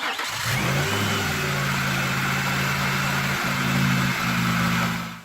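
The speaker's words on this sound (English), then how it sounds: "And then you can just listen to the engine start." A 1999 Ford Taurus engine cranks briefly and catches, then settles into a steady mid-pitched idle with a low hum and a slight shift partway through, loud and close throughout, with no talking.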